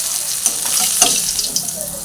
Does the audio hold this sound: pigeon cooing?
no